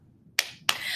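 Two gentle hand claps sound close by, spaced roughly a third of a second apart, soft and crisp with a faint hiss lingering after the second; no one speaks.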